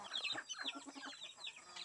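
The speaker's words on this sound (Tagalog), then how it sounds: "Yan ang mga manok." Several chickens cluck in quick, overlapping bursts, with a few higher squawks mixed in, moderately loud and close by.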